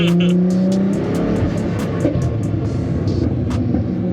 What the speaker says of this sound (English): You can literally hear the flames going on.